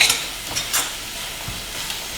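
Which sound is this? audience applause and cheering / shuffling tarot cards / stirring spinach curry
stirring spinach curry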